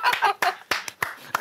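Several sharp bursts of hand clapping, irregular and close, with brief pauses between them.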